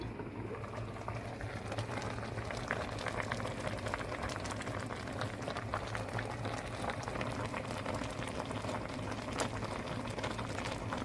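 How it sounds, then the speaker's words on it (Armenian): A pot of khashlama, lamb stewed with beer, peppers and salt, bubbles at a steady boil, a continuous close hiss and patter of popping bubbles with no talking. "արդեն բավականին ժամանակ եփում է խաշլաման"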